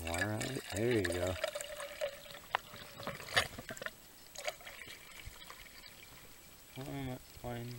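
Water is poured and drained out of a container at a campsite on the shore of the Great Salt Lake near the Spiral Jetty, a steady splashing trickle mixed with voices talking nearby.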